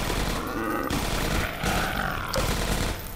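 Gunshots in the video game Half-Life 2: Episode One, a few muffled shots mixed with creature growls and steady game noise, moderately loud.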